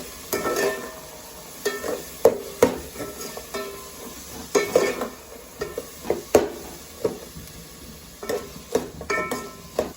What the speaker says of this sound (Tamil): வெங்காயமும் கொஞ்சம் வதங்கட்டும்.